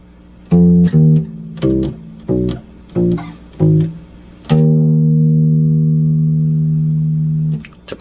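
A bass guitar plays a short break from a song: six punchy, plucked notes in a stepping rhythm, then one long, ringing final note that sustains for about three seconds, loud and close.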